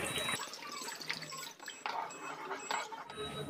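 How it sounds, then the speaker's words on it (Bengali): Water is poured into a veg Manchurian sauce made with dark soy sauce and tomato ketchup, a close, steady splashing that runs for a few seconds with slight surges. "এবার দিয়ে দেবো পরিমাণ মতো জল"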